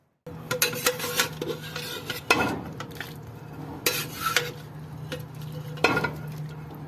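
Mutton yakhni stock is ladled from a cooking pot into another vessel, with metallic scrapes, clinks of utensil against the pot and soft liquid sloshing throughout.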